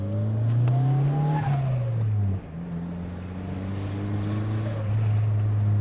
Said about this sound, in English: the external wastegate just basically screams, makes the car scream.